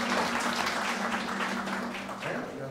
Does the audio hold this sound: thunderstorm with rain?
no